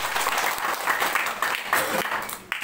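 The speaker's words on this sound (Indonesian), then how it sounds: "Beri dulu tepuk tangan yang terbaik." A congregation at an evangelistic revival service in Amabi Oefeto Timur breaks into loud, dense applause. The clapping stays close and full for nearly three seconds before it briefly dips near the end.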